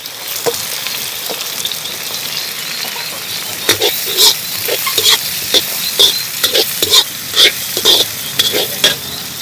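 Onions hit a hot pan with ginger and garlic, frying in a loud, close crackle while a spatula scrapes and clatters in quick repeated strokes, growing busier toward the end.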